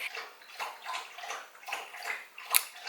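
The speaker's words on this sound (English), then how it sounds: "Waiting for Slayer to stop drinking his water." A pet laps up water in quick, even wet laps, about three per second, heard close and steady throughout with no talk.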